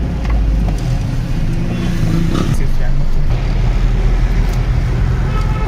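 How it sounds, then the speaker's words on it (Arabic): Dense car traffic on a busy street in Homs, a constant loud roar of engines and road noise close by with occasional passing vehicles, and voices mixed into the din. "ازدحام كثير، سيارات"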